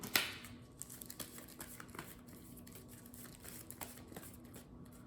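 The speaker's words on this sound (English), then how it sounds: "let's shuffle up the encounter deck here" Someone shuffles the encounter deck for a solo Marvel Champions card game, producing soft riffling and rustling of cards on a table, with a sharper snap at the start and quieter ruffles and taps after it, close and fairly faint.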